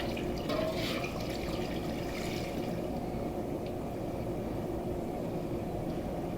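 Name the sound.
water added into a bowl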